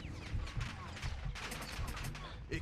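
Gunfire in the video game Call of Duty Modern Warfare 2 rattles in rapid bursts and scattered shots, fairly faint and continuous, with muffled voices underneath.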